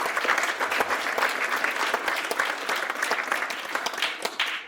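An audience at a UK healing-stories event gives steady applause, with dense clapping that holds level throughout and fades slightly at the close.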